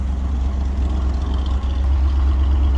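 A 1961 Dodge C800 ramp truck engine idles low and steady after warming up, a loud, close, continuous rumble with no one talking.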